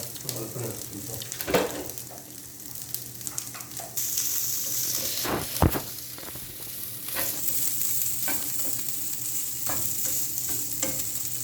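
Masala frying in a pan, a steady sizzle with stirring scrapes and occasional sharp clinks, growing slightly louder and brighter partway through, with no talking.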